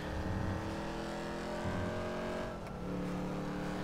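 A car engine in the video game GTA 5, revving with a steady, sustained drone that dips briefly and then resumes, moderately loud and heard alone.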